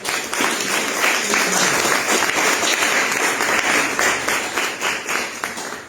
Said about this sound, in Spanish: con fuertes aplausos al maestro